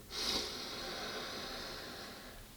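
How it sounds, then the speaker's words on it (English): A slow, deep breath drawn in through the nose during a guided meditation, heard close and soft as a steady airy hiss that swells briefly at the start and then holds faintly for a couple of seconds. "just take a deep breath in through your nose"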